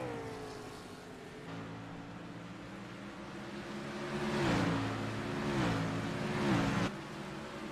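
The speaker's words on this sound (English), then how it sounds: "it does sound like the 21 is downshifting" A NASCAR race car engine drops in pitch through several quick downshifts through turns, revving up and falling again in a steady rhythm, loud and close with no voices.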